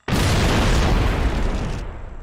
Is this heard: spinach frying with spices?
no